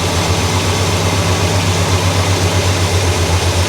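A 1965 Cadillac engine idles steadily after a slight idle-speed reduction, giving a deep, even, continuous rumble that is close and loud with no talking.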